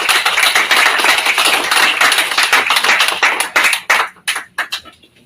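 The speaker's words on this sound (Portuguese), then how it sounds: "E uma salva de palmas ao PTB." Applause from a crowd at a political party meeting, dense clapping that is loud and steady, then thins into a few scattered final claps before stopping.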